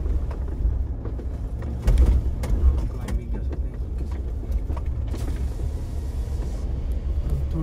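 A car driving along a damaged mountain pass road at Shinkula Pass, with low engine and road rumble throughout and a few brief bumps and knocks.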